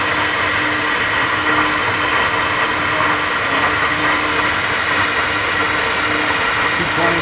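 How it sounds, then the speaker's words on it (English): A flow bench blows a loud, steady rush of air through a CNC-ported 12V Cummins cylinder head, a constant roaring whoosh that holds unchanged throughout, with no talk over it. "Flow bench is pretty impressive when you really see the volume of air coming out of there"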